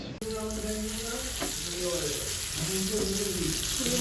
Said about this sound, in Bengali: বিরিয়ানিটা ভাজছি।